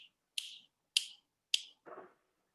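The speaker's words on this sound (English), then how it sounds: "then you just snap." Three crisp finger snaps, evenly spaced about half a second apart, loud and close, followed by a softer duller tap; no talking.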